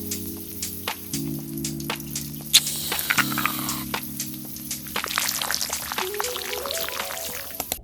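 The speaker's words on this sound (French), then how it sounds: "je vais aller prendre ma douche" A home shower runs with a steady hissing spray that swells in the second half, mixed with background music.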